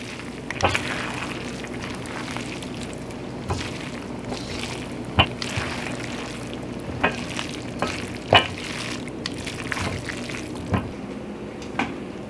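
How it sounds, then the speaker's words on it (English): Cooked gluten-free pad thai noodles and peas stirred in a pan, with soft scraping and clinking of a utensil at irregular intervals over a faint steady sizzle, close and without speech. "And then just give everything a good stir."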